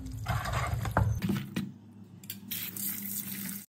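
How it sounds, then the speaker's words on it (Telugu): A tap runs steadily over chicken being washed in a sink, with a loud, close splashing stream that shifts as the pieces are rinsed and handled. "చికెన్ అయితే బాగా కడిగి పెట్టుకుందాం"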